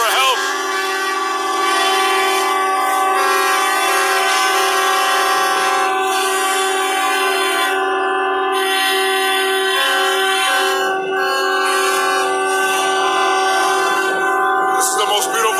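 Trucks sounding their horns in a protest convoy, long sustained blaring tones held almost without break, loud and close, with brief shifts and overlapping horns throughout.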